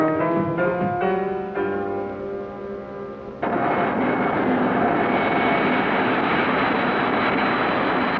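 An aircraft roars at White Sands Missile Range in 1960, first with a droning tonal engine note, then a sudden loud broadband jet-like roar that holds steady.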